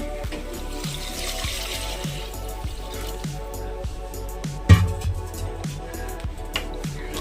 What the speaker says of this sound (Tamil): நம்ம தண்ணி தேவையான அளவு தண்ணி ஊற்றிக்கலாம்